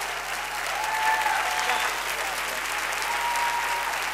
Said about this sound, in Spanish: Bien fuerte ese aplauso.